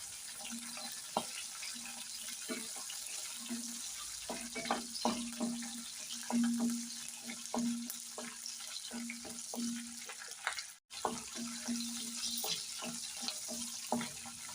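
Green chillies and coriander seeds sizzle as they roast in a pan, giving a steady soft frying hiss with scattered crackles and pops throughout and no voices.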